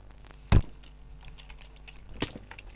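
Computer keyboard keys pressed while entering a name during a CraftRise Bedwars game, two distinct sharp clicks about two seconds apart over a quiet hum, no talking.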